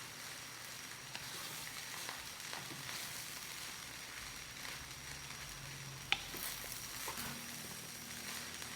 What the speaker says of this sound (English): now we're going to add our eggs back in here that we cooked up